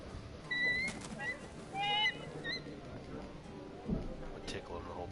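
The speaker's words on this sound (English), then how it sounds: "look, it's the CD Projekt Red bird up there" Short chirping bird calls from the Thronebreaker: A Witcher Story bird sound in a few brief, whistled phrases over a quiet ambient bed, with a voice talking across the calls.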